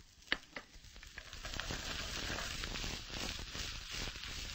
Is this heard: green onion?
yes